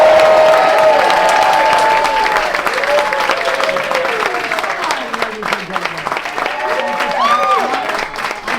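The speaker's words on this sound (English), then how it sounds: "Big round of applause." Applause from an audience at a magic show at the Magic Castle, loud and sustained, with scattered whoops and tonal sounds over the clapping as it slowly thins out.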